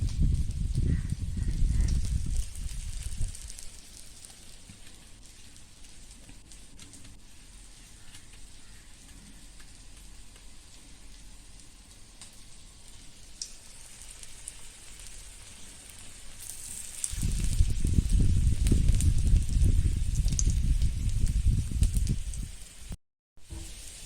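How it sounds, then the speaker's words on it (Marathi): Raw papaya cutlets coated in semolina shallow-fry in oil, giving a steady crackling sizzle that is loud at the start, quiets for a long stretch, then swells again near the end. "ते ह्या तेलामध्ये शालो फ्राय करून घेऊयात"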